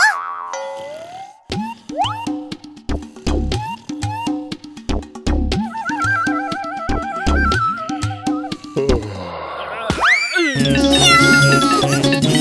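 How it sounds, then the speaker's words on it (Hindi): Cartoon sound effects from an animated action series, with springy boing tones and a cat's meows and wails rising over a busy, loud soundtrack of sharp hits and swooping tones. "यहाँ बिल्ली है, कोई बिल्ली है।"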